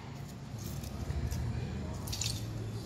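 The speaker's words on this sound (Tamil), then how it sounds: "ஸோ இதில் வந்து லெமன் ஜூஸ் ஊற்றிடலாம்." Lemon juice is squeezed by hand into a green chicken kebab marinade with green chillies, a close, quiet wet squish followed by soft drips.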